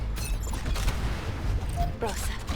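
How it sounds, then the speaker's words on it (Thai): Gunfire aimed at a mech's legs in the game Mecharashi, a dense, continuous volley of shots and impacts that fills the clip under game sounds, with a voice talking over it. "แล้วก็ยิงตัดขาเข้าไป"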